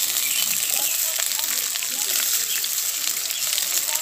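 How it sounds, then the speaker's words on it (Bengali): Ivy gourd and potato frying in oil in a pan, a steady bright hiss and sizzle that holds evenly close by throughout. "কুঁদরিগুলো দিয়েও আমি 2 মিনিট ভেজে নেব।"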